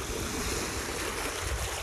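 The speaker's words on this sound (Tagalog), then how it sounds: "Ang alon po medyo malakas po ng konti." Steady roar of surf washing against the shore, broadband and continuous, with some wind buffeting the microphone.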